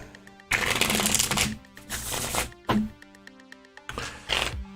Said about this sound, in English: I think about 2 more shuffles ought to do it.